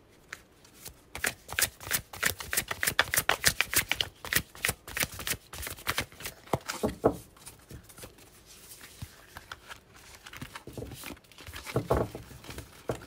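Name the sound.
shuffling tarot cards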